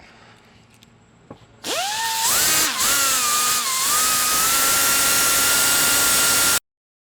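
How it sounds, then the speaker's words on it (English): An angle grinder grinds down a metal factory bracket on a Toyota Tundra during a lift kit install, spinning up sharply and then holding a loud, steady whine for several seconds before cutting off. "just go ahead and use an angle grinder, whatever you got, to grind those down"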